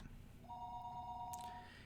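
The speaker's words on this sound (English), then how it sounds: "It was then I noticed that the phone was ringing." A telephone ringing in the Higurashi visual novel game, a single steady electronic ring tone sounding briefly and faintly over a low background hum.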